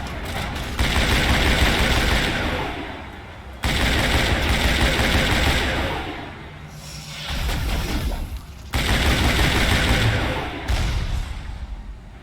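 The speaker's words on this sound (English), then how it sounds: "Let me get my infinite fire weapon out here" Rapid automatic weapon fire in the video game Mass Effect, loud sustained bursts of gunfire in several long volleys separated by short pauses.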